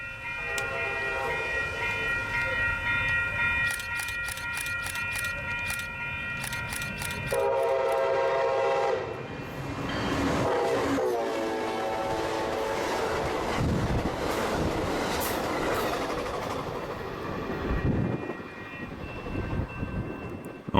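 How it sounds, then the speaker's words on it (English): Southbound Amtrak 1770, a passenger train near San Diego, approaches with repeated horn blasts, then rumbles loudly past with clattering wheels and rushing noise. The sound fades slightly near the end. "Just in time for southbound Amtrak 1770,"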